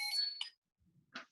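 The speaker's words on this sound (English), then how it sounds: "that's the alarm if y'all hear it from the timer" A timer alarm gives a short electronic beeping burst, then a brief pause and a second faint beep, quiet and close by with no talking.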